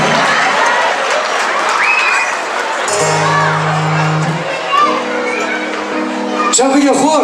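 An audience at a wedding celebration applauds loudly and steadily to welcome a performer onto the stage. Someone speaks over the clapping and tonal sounds rise in the background.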